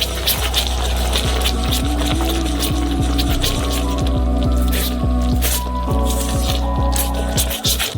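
Boiling pink caramel made with sugar and dye is stirred on a stove, giving close wet squishing and dripping with rhythmic knocks of a utensil against the pot.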